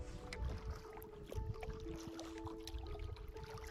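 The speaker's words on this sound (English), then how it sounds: "All you can hear is the wind, ripple of the water." Wind blows over a mountain lake and water ripples and laps at close range, soft and unsteady, with gusts buffeting the microphone and no one speaking.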